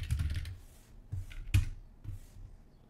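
Computer keyboard typing and mouse clicks while logging an email in Gmail to Salesforce: a quick burst of close key taps, then a few sharp isolated clicks spaced apart in a quiet room.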